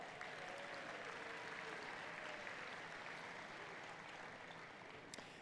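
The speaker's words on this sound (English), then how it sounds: "Let's give all of them a round of applause." A crowd at the 2019 National Senior Games flame arrival ceremony gives a round of applause for government officials, dense steady clapping heard from a distance and quite faint overall.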